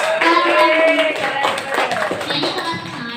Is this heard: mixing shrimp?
no